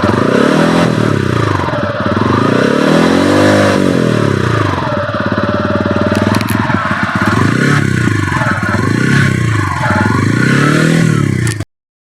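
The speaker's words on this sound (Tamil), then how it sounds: "வண்டியோட ஸ்டார்டிங் நோட் எப்படி இருக்குன்றதை நீங்கள் கேட்டுக்கோங்க" A TVS Ronin retro motorcycle starts and runs. Its exhaust note swells and falls in repeated revs, loud and close, then cuts off abruptly.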